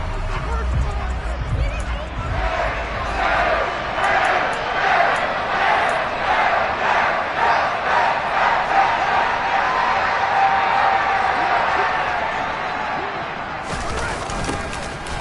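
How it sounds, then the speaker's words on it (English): A stadium crowd at a Bears versus Packers football game shouts and roars while a replay is shown, with a commentator speaking over the loud, rolling crowd noise. "Plenty of shouts from this crowd as they watch the replay."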